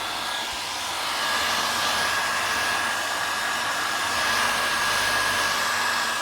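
A hair dryer runs steadily and close, drying paint on an upcycled mirror; its continuous whooshing roar holds at an even level with a faint high whine, with no talking.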